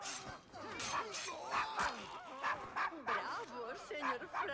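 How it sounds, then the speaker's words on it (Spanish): Dog barking in the video game Assassin's Creed Syndicate, a string of sharp, repeated barks at a steady rhythm, close and fairly loud, mixed with game voices and ambience. "¿Siempre está ladrando tanto?"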